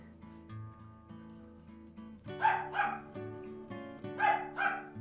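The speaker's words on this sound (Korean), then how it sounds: "언니가 힘들지 짖느라고." A dog at a mountaintop country house barks in several loud bursts, close by, over a bed of steady background music.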